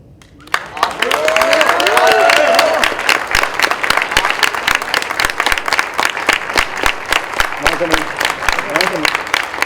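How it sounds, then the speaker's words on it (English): Audience applause at an India championship awards ceremony, a steady crowd clapping that swells quickly and holds loud and close, with a voice talking over the start and again briefly near the end. "Can we clap hands, guys?"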